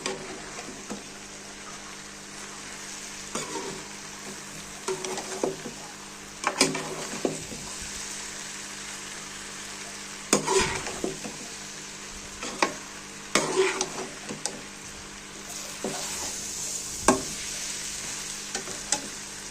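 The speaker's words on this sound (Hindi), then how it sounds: "अब इसको ना मैं हल्की आंच पर पकाऊंगी, ताकि ये गाजरें और आलू दोनों गल जाएं।" Carrots and potatoes cook in mustard oil over a low flame, a steady soft sizzle running throughout with occasional louder stirring scrapes and clatters of a utensil in the pan.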